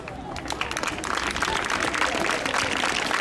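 A crowd applauds with dense, continuous clapping that swells in the first moment and then holds steady.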